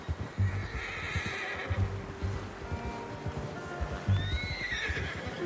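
A horse whinnies and snorts in Red Dead Redemption 2, with hoof clip-clops thudding underneath; two rising neighs stand out, the loudest near the end, against steady outdoor game ambience.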